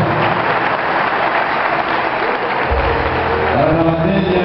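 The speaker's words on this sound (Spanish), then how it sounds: "por ese aplauso." Crowd applause at a fight event in Santiago del Estero, loud and dense steady clapping from many hands, with a voice starting to speak over it in the final two seconds.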